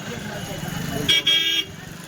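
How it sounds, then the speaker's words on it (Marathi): A car horn toots twice in quick succession amid busy street traffic at a crowded market selling festival decorations for bullocks, over a steady rumble of vehicles and someone talking nearby. "ट्रॅफिक आहे गर्दी वगैरे भरपूर आहे"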